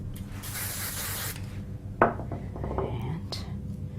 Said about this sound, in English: I'll spray them all